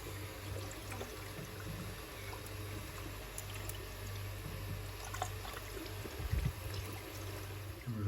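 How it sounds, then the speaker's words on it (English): Water washes and trickles steadily through a boiler's condense trap during cleaning, a continuous close pour with a low hum underneath and a brief gurgle near the end. "as it washes through, it runs through the condense trap"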